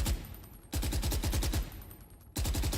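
Three short bursts of rapid suppressed gunfire from a weapon in the Valorant video game, each a quick run of muffled shots with brief silent gaps between them.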